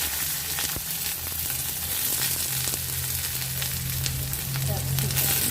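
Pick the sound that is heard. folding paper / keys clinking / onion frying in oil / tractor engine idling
onion frying in oil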